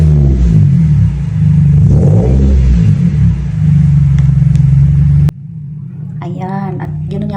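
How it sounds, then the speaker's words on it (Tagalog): A car engine runs loud and close, revving up and down with a deep throaty rumble, then cuts to a quieter idle. "Ang ginawa po ni Kalo, pinaandar niya po yung sasakyan niya para ipadinig na lang kay tatay kung gaano kalakas yung"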